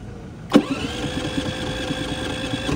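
A Philking PK4200 dual-fuel generator running on LPG starts with a sharp crank, then settles into a steady, close mid-pitched engine hum that runs without talk to the end.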